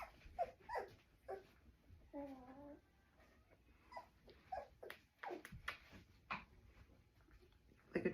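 A Goldendoodle puppy whimpering and yipping during handling, short high whines and one drawn-out wavering cry, close and faint, scattered between soft human talk.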